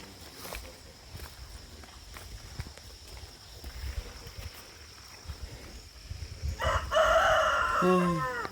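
Shuffling footsteps and rustling lead into a rooster crowing loudly and close at the end, a single drawn-out call.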